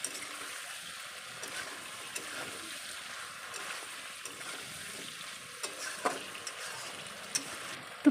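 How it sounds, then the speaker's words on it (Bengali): Potatoes sautéing in a pan with ginger and green chili paste for a ridge gourd and potato dish, giving a faint, steady sizzle with occasional soft scrapes and clicks of stirring, no voices. "এবার কিন্তু আদার কাঁচা লঙ্কা বাটাটা আলুর সাথে ভালো করে কষিয়ে নেব।"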